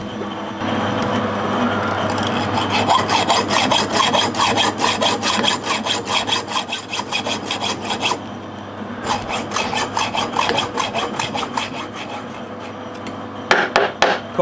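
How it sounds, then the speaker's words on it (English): A hacksaw cuts through a modified metal lathe tool with steady, rhythmic back-and-forth strokes, loud and close, pausing briefly midway before the sawing resumes. "We'll just finish that off with a hacksaw."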